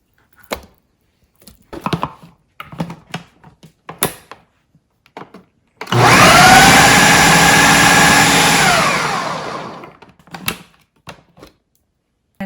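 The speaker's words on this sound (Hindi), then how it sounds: "अपने चॉपर ले लेना, जो भी आपके पास, ग्राइंडर, चॉपर, जिसमें भी आपको कीमा बनाना है।" An electric chopper minces chicken for nuggets in a kitchen, whirring loudly for about four seconds with its pitch rising, between scattered clicks and knocks from handling the appliance.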